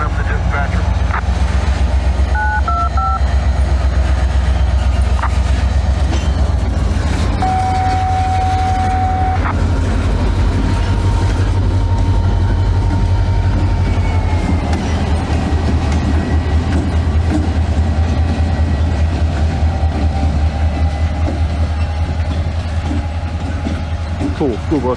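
A freight train rumbles past a crossing where a school bus has stopped, a steady low roar and rail clatter running throughout, with brief tonal whistle-like blips early and people talking faintly underneath.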